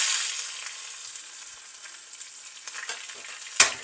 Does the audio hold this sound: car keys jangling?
no